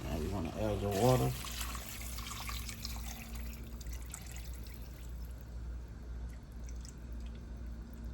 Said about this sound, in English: Now you want to add your water.